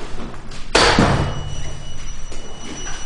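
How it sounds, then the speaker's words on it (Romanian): A building door near an apartment lift is pulled open with one sharp thud and rattle, followed by a low lingering rumble and ambient noise. "Trag de ușă."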